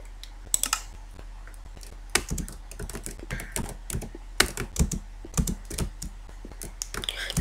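Computer keyboard being typed on in uneven bursts of crisp clicks and key taps, with pauses between flurries and a louder clatter at the end, no talking.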